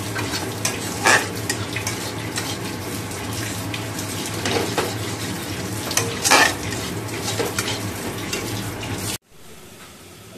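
Fish frying in a pan gives a steady, close sizzle with brief louder stirring scrapes, then the sound cuts out abruptly near the end.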